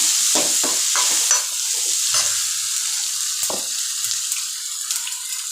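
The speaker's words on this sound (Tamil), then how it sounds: "இப்போ பீக்கங்காய் போட்டு நல்லா வதங்கிட்டு இருக்கு" Ridge gourd sautés in a hot pan, sizzling steadily while a spoon scrapes and stirs it in a few quick, close strokes.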